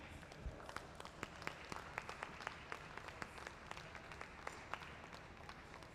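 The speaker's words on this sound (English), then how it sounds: "And let's give the Hot Shop team a big round of applause." A museum audience claps for the Hot Shop glassblowing team, sharp scattered handclaps from a modest crowd that keep up a lively, fairly even rhythm throughout, with no voices over them.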